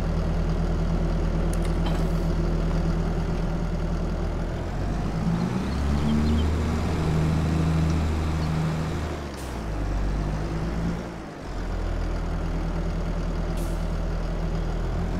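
A tractor engine idling and running steadily in Farming Simulator 22, a low, continuous drone with slight dips in level and no talk over it.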